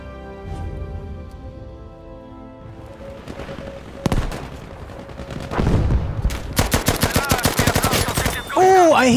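Gunfire in the PC shooter Battlefield V, loud close bursts of automatic weapon fire in rapid rhythmic strings, building to a dense sustained volley near the end, with sporadic louder single blasts.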